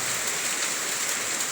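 Steady rain pours down, a dense even hiss of drops striking surfaces close by, with no voices over the brief stretch.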